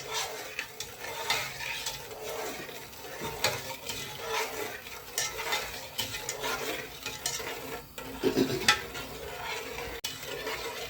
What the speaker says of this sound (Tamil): ஒரு கம்பி பதம் வர அளவுக்கு கிண்டி விட்டுன்னு இருக்கணும்